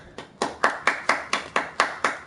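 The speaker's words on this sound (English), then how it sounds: "Stand up, Phelps. Take a cheer." A police squad room in the video game L.A. Noire breaks into applause for a detective's promotion to homicide. About nine crisp, evenly spaced claps ring out loudly and close, with no talking over them.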